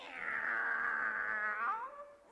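A person imitates a cat's meow in one long, drawn-out, wavering call that fades at the end, close and clear.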